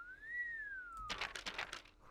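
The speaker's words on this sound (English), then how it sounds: "He whistled to himself, barely looking at the text." A video game character in Beacon Pines whistles to himself, a single clear rising-then-falling tone, followed by a burst of soft clattering sounds.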